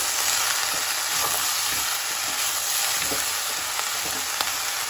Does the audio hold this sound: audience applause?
no